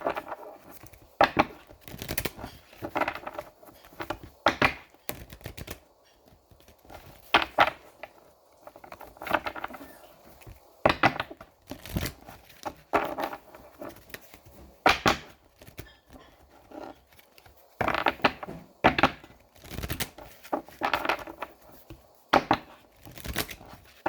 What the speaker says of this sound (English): Two more shuffles, y'all.